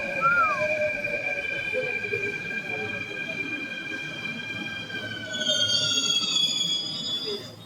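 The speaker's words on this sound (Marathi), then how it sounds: "मेट्रो आले आता." A Mumbai metro train rolls past with a steady rumble and high squealing wheel tones that rise toward the end, loud and close, with some talk mixed in.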